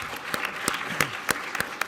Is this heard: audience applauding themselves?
yes